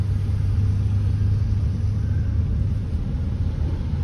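Dense morning traffic stuck bumper to bumper on a wet, rainy road gives a steady low rumble of idling and creeping car engines, continuous and even throughout with no voices.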